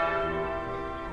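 A bell rings in a Wallace and Gromit adventure game, one sustained, resonant toll that rings on and slowly fades over a little more than a second.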